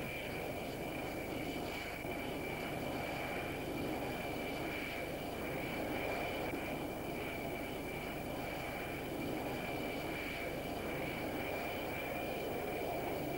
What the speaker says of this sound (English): Everything on deck is choreographed like a ballet to get perhaps 90 planes loaded and blasted off in quick succession by the mighty steam catapults.